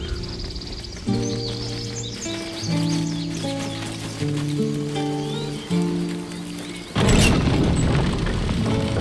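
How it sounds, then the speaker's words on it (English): A single heavy cannon blast booms out in the video game Baldur's Gate 3 after a stretch of game music, loud and sudden near the end, with a rumbling tail. "Cannon?"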